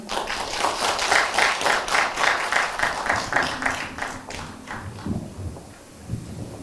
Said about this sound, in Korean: 큰 박수로 끝까지 힘차게 응원의 박수